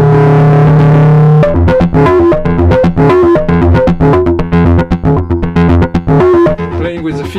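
Synthesizer control-voltage sequence run through a Synton Fenix delay with no feedback, a loud, distorted run of rapid stepped notes that repeat with a dense, driven tone after a sustained opening drone.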